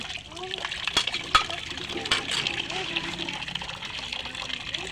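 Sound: washing dishes with running water

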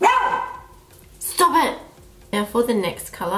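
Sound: dog barking in the background

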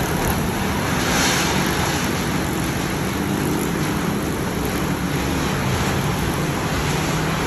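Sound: strong wind and heavy rain storm

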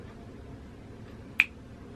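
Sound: finger snapping

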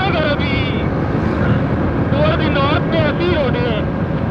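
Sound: motorbike riding on a curvy hill road

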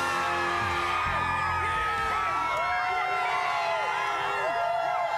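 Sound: massive crowd cheering in a park

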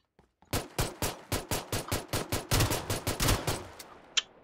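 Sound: Kar98k rifle gunshots in the video game PUBG

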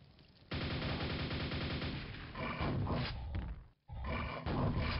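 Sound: nailgun firing nails at enemies in the video game Quake

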